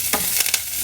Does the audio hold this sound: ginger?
yes